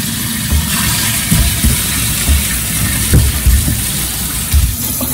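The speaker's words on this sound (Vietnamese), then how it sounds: "Xả dưới ngoài nước ha, cho nó sạch hết." Parboiled beef for bún bò is rinsed under a running tap, giving a loud, continuous splashing gush of water with slight thumps as the meat is handled.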